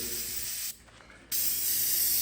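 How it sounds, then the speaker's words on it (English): Aerosol bug remover sprayed onto car headlights and plastic trim, a loud continuous hissing spray that cuts out briefly for about half a second and then resumes, close to the mic, with no talking. "Get a little nervous as I'm spraying this on headlights and plastic"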